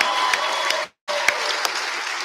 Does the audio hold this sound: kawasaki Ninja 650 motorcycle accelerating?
no